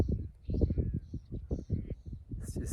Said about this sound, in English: So much bird life. So many birds around.